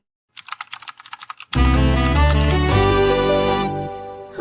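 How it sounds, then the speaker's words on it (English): Quick keyboard typing, a burst of about a dozen crisp, evenly spaced clicks, gives way to a loud, sustained musical chord that fades slowly. "Who's that typing in the comments?"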